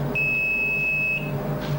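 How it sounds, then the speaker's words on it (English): A fryer timer in a McDonald's kitchen gives one steady, high electronic beep lasting about a second, loud and clear over a low background hum. "When the timer sounds"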